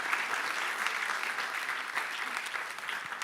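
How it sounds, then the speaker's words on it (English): Steady, loud audience applause fills the room at a conference event, a dense wash of clapping that holds evenly from start to finish with no voices over it. "Round of applause."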